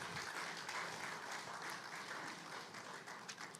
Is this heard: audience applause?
yes